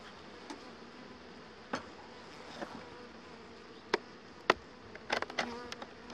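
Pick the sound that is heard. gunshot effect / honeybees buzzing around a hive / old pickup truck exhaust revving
honeybees buzzing around a hive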